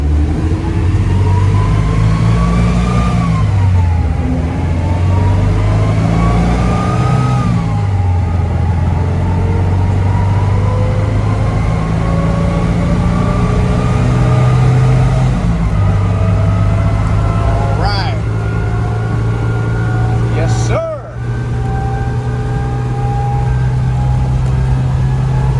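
Air-cooled four-cylinder engine of a Pinzgauer 712M off-roading in a Florida forest, droning loud and steady close by as it downshifts, with pitch climbing and dropping through several gear changes and a brief dip near the end.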